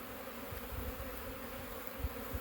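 Honeybees crawl on a beehive inner cover, their continuous buzzing hum close and steady, with small swells as individual bees pass nearby.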